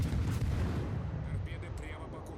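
A Minsk destroyer fires a gun salvo in World of Warships, a deep rumbling boom that rolls on and slowly fades, loud and close with no talking.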